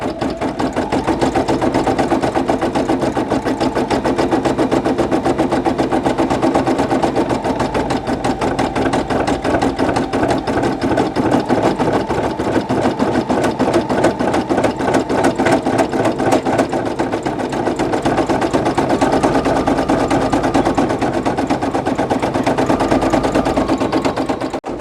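A Brother PE800 embroidery machine stitches a patch border with a fast, steady mechanical chatter of needle strokes, close and continuous without pause.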